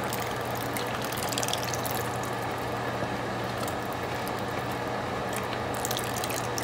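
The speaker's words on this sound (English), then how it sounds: "now what I will do is add my evaporated milk" Evaporated milk pours steadily into Haitian-style cream of wheat porridge, a continuous liquid splashing and trickling that stays close and even throughout.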